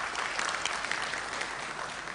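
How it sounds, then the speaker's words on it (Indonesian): Steady applause from a crowd at an Indonesian parliament (DPR) session, a dense wash of clapping that holds at an even level throughout. "Boleh tepuk tangan dong."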